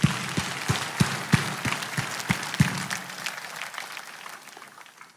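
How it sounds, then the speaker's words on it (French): Church congregation applause during a French-language sermon, opening with a few sharp, rhythmic claps near the front amid general clapping, then thinning and fading to quiet over several seconds. "Applaudissez pour vous-même"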